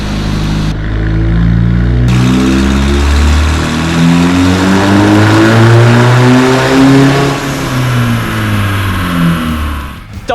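Toyota Revo with a stock-type Revo turbo and original header being run on a dyno for a horsepower test: loud engine climbing steadily through the revs with rising harmonic tones, then easing off and cutting out near the end.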